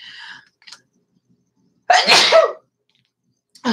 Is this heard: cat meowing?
no